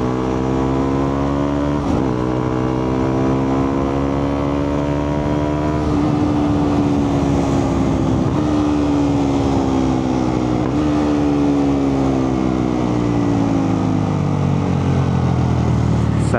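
A Husqvarna Svartpilen 200cc motorcycle accelerating on the road, the single-cylinder engine rising in pitch through several gear changes, loud and close with wind rush, no talking.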